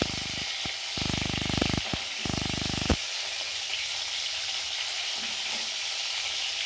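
Prawns fry in a hot pan with a steady close sizzle, broken early by a few bursts of stirring and scraping, then settling into a continuous even hiss.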